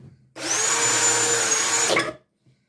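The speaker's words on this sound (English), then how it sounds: "I'm trying to drill some holes in some pots" A power drill drilling holes in pots whirs at high speed for about two seconds, steady and loud, then winds down abruptly to silence.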